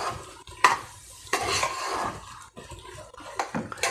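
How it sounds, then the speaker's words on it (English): Jaggery being stirred into Kerala kootu curry in a pan, with irregular soft scraping and clinking of a utensil against the pot over a faint simmer, close and fairly quiet. "I have added the jaggery inside and I will mix it nicely."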